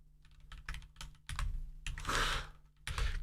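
A computer keyboard clatters in quick bursts of close, fairly loud keystrokes with short pauses between runs, plus a brief rustling swell midway and no speech.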